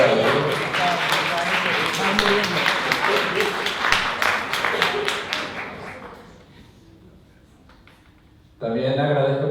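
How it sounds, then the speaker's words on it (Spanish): Audience applause for David fills the first six seconds with brisk, steady clapping, then fades to near silence before a voice starts speaking close and loud. "David, un aplauso para David."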